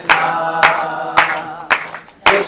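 Audience at a Hare Krishna religious gathering clapping in a steady rhythm, sharp hand claps landing about twice a second over sustained chanting voices.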